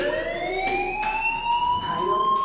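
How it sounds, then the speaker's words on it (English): Rising and falling electronic alarm tone from a fire alarm inside the Life is Strange video game, a steady wailing siren with harmonics that holds loud and continuous throughout without pause. "do you hear that fire alarm?"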